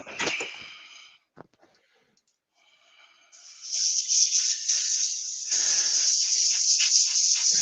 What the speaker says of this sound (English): the beauty of using the air gun compressor is that you've only got about 35 psi blowing the dust around